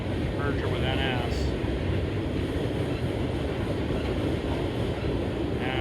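A Norfolk Southern freight train passes on the former Wheeling and Lake Erie line near Oak Harbor, Ohio, a loud, steady, continuous rumble close by that holds without letup, with a brief faint horn-like tone early on.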